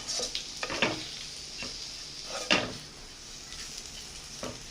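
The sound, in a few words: masala being stirred and heated in a pan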